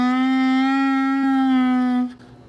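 A Bb clarinet plays C with fingers not fully sealing the tone holes, giving a single held reedy note with a slight waver that lasts about two seconds before breaking off, no voices present.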